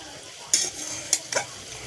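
Drumstick flowers fry in a pan with a low sizzle as a spatula makes three quick scraping strokes, close and clear, with no one talking.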